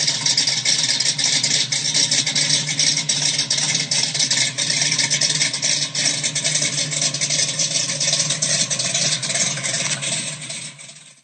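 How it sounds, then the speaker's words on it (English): A 426 Hemi V8 rumbles at idle, a loud, dense, continuous burbling throb with slightly uneven pulses, close up and alone, easing off slightly at the very end. "Enjoy the easy listening sounds of a 426 Hemi."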